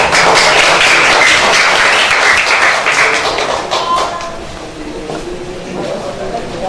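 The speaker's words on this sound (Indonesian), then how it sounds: "Sekali lagi beri tepuk tangan yang meriah." Lively applause from an audience at a children's preaching contest in Bondowoso, dense clapping that is loud at first, then thins and fades a little, with some background noise mixed in.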